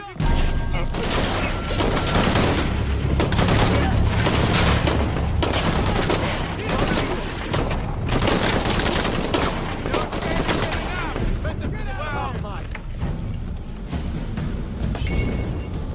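Heavy gunfire from the Shadow of the Tomb Raider video game, with rapid automatic bursts, loud shots and shattering impacts, dense and continuous throughout, with occasional voices under the din.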